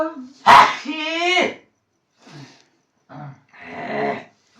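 A dog yelps and whines in a few short, close bursts separated by silences.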